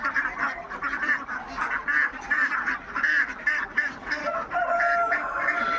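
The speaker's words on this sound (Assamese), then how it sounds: "একদম কোনো স্পট নাই খাকী কেম্বেল পোৱালি" Khaki Campbell ducklings quack in a rapid, continuous chorus of high, overlapping calls, close and moderately loud, with no talk.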